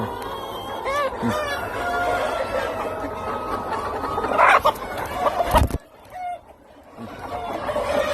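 A flock of about two hundred young chickens clucks and squawks close by, with several calls overlapping against a busy farmyard background and a brief quieter gap near the end.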